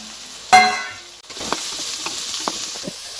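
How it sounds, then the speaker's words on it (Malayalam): Shallots, tomato, ginger, garlic and onion hit a hot pan with a sharp burst of sizzling, then settle into a steady frying hiss broken by a few light stirring scrapes. "അരിഞ്ഞു വെച്ചിരിക്കുന്ന ചുവന്നുള്ളി, തക്കാളി, ഇഞ്ചി, വെളുത്തുള്ളി ഇതിട്ട് നമുക്കൊന്ന് വരട്ടാം."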